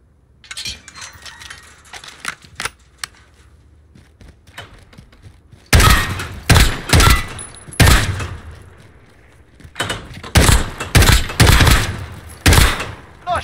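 Sharp bursts of gunfire ring out on a Call of Duty Modern Warfare gun course, starting with scattered light shots and then loud rapid volleys in clustered groups separated by short pauses, with no talk over them.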